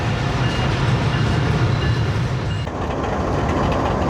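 Awam Express passenger train standing or creeping at Khairpur railway station, a loud continuous low rumble and mechanical hum from the carriages with a slight drop in intensity partway through, no voices.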